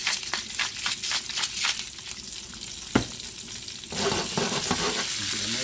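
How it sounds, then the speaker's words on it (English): A pork chop sizzling steadily in hot olive oil in a pan, with a sharp clink partway through and a louder, busier frying hiss toward the end. "There's the sizzle I want."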